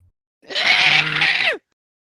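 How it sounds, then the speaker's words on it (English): A man screams angrily in one loud, strained, raspy yell lasting about a second, alone with no other sound around it. "I get mad. I scream at Santa."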